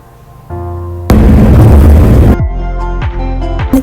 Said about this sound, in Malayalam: അപ്പം അടുത്തൊക്കെ പടക്കം പൊട്ടുന്നുണ്ട് കേട്ടോ.